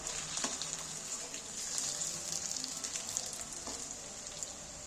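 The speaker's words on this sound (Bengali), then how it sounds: "এবার আমি একটা একটা করে উল্টিয়ে দিচ্ছি উল্টো পিঠগুলো ভাজা মোটামুটি হয়ে গেছে" Fish roe fritters fry in hot oil, a steady soft sizzle with faint crackles as they are turned one by one, heard alone without talk.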